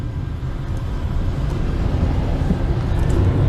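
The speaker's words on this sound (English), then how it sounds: "Look at all this truck traffic." Heavy truck traffic rumbles past on I-80 in Chicago, a loud, continuous low roar of engines and tires heard from a travelling car, with no speech.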